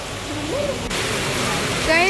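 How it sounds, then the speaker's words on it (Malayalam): Heavy rain pours steadily in a broadband hiss, close and continuous throughout, with a brief voice or whistle-like sound near the end. "നല്ല മഴ."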